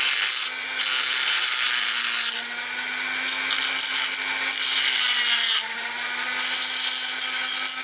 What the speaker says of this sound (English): Okay, so I'm going to grind the end of these.